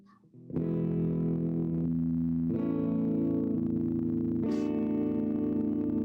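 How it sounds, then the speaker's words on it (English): A clean-toned electric guitar played through an amp, three strummed chords ringing out bright and sustained, close and loud, no voices. "And you can hear that I have just like a clean tone."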